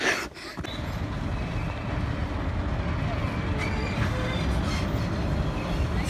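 A Bhakra train rolls into Nella station with a steady low rumble and rail noise, heard nearby in the open over continuous background hiss.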